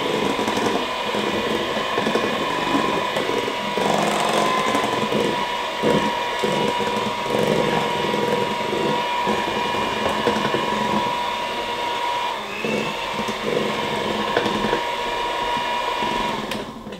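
An electric hand mixer beats cake batter with flour and baking powder for a marble sponge cake, a steady whirring motor drone with small bumps in pitch as it works through the mix, close and continuous with no talking.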